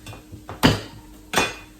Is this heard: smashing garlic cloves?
yes